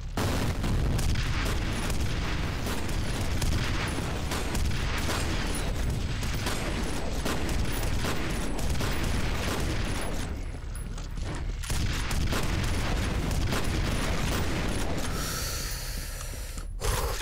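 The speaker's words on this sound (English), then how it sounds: "Grenade!" A grenade blast and rapid gunfire in the shooter game F.E.A.R., a dense, continuous barrage of booms and shots filling the whole stretch, loud and close, ending with a brief lull and a final burst.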